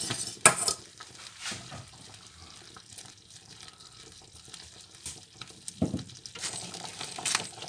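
Mornay sauce stirred vigorously in a pan, with scraping and clinking of the utensil against the metal, soft bubbling and occasional louder knocks, close up with no talk.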